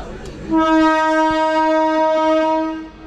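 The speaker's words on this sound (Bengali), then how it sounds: "আর এই হচ্ছে তমলুক স্টেশন, দেখুন।" A train's horn sounds at Tamluk railway station, one loud, steady blast of about two and a half seconds that rises out of platform murmur and then fades.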